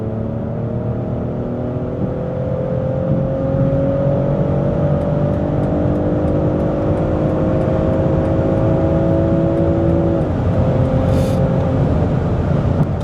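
A heavy BMW X5 50e M Sport Pro kicks down a gear and pulls away, engine note climbing steadily in pitch for several seconds before easing off, heard from inside the cabin with no talking.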